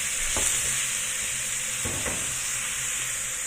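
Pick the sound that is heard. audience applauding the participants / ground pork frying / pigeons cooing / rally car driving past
ground pork frying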